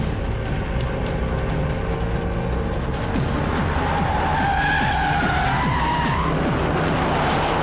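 Car tyres skid loudly and continuously as a car swings around in an action-film chase, with broadband screeching and rumbling throughout and no talk.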